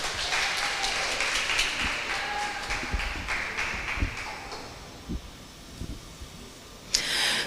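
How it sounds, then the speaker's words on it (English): Audience claps after a presentation at a business pitch event, the applause strong at first and then thinning into scattered, isolated claps before a brief burst near the end. "Another round of applause for Frida."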